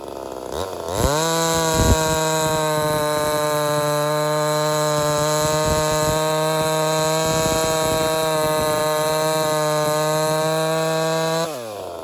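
A ported chainsaw running a dull chain roars at a steady, sustained high pitch for about ten seconds after a quick rev-up, loud and close, then drops away at the end with no speech.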